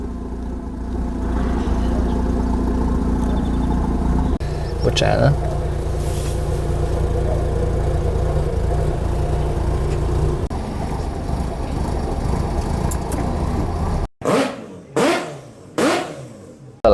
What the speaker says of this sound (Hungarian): Alapjárat kellemesen ingadozik.